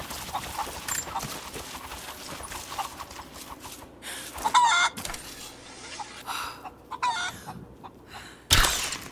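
Chickens cluck in repeated short bursts in the game Tomb Raider, some close and some further off, over a busy ambient game backdrop with a sharp noisy burst near the end.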